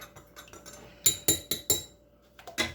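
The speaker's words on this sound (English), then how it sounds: "You want to grab your cup of gravy mix. You want to give it a good stirring again." A utensil stirs gravy mix in a cup, ringing out in a quick run of close, sharp clinks and taps against the rim and sides, with short pauses between bursts.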